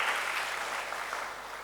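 Steady crowd applause at a school summer camp closing ceremony: many hands clapping together in a full, even wash that tapers slightly toward the end.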